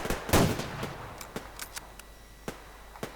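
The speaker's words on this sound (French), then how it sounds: "Pourquoi il tire sur moi ça?" Gunfire in the video game Survarium: one loud close burst early on, then a string of sharp, scattered shots at varying distances, some faint and distant, with no talk.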